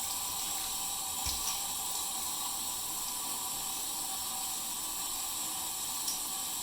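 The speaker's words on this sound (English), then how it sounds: "I'm just gonna wet the hands in the sink and then apply it in the hair" A sink tap runs in a steady, unbroken hiss while hands are wetted beneath it, close and constant, with a brief splash or knock partway through.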